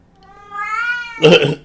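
A cat in The Great Ace Attorney 2 gives a single close, rising meow that swells and ends in a short, louder rough cry.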